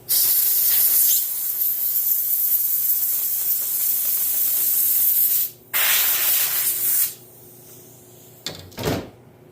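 Compressed air blasts loudly around the drive chain sprocket of a machine with a thrown chain, a long continuous hiss with a brief gap, then a few short bursts near the end.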